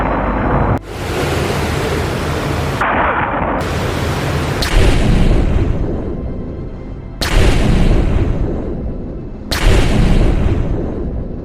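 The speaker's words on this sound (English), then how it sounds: "The 3 torpedoes that were fired successfully all struck Wilhelm Gustloff on her port side." Three heavy torpedo blasts strike the port side of the ship Wilhelm Gustloff at sea, each a sudden loud boom over a constant roar of wind and surging water, spaced a few seconds apart.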